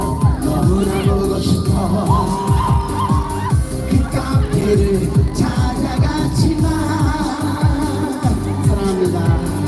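A festival crowd at the Cheongsong apple festival roars and cheers loudly and continuously over thumping amplified music, with shouts and whoops rising throughout, close and dense.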